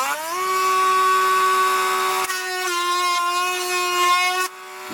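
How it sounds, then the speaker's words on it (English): A small power drill whines at a high, steady pitch while boring a hole in the tail of a model aircraft. The tone shifts slightly partway through and stops abruptly near the end. It is loud and close. "So I know I now have to just drill to that length"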